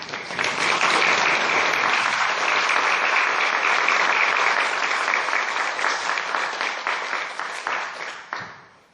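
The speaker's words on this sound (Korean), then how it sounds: "우리 목사님 나오실 때 큰 박수로 맞이해 주시면 감사하겠습니다" A church congregation gives sustained, loud applause welcoming a visiting pastor to a Presbyterian worship service, dense clapping filling the room for about eight seconds before tapering off at the end.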